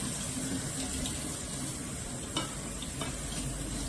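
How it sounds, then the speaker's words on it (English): Steady rush of cold tap water rinsing beans in a strainer, continuous and close, with a couple of faint clinks partway through. "Turn on your cold water."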